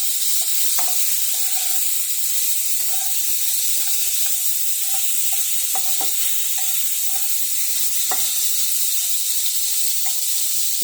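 Paneer fries in hot oil in a wok, making a loud, continuous sizzle close up, with scattered sharp pops and crackles over the whole stretch.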